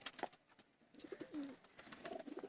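Teddy pigeons cooing close by, several soft throaty coos in quick succession with a bird call, alone and fairly faint.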